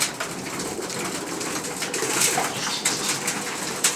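Pigeons on a rooftop give low cooing calls mixed with rustling and brief wing flutters, close and fairly loud against steady outdoor noise, with no talking.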